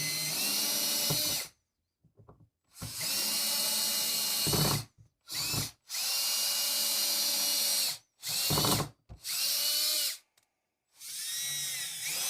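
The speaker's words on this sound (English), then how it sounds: "We'll send a couple more screws in." A power drill drives screws into new climbing rock holds in repeated loud bursts of whirring, several runs separated by short silences, with no talking.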